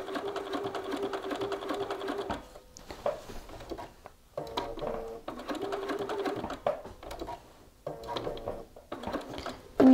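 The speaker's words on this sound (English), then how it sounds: "you may need to hand wheel just to make sure you're getting that final stitch" A sewing machine stitches around the corner of a shirt collar, running in steady bursts with short pauses between stretches of stitching.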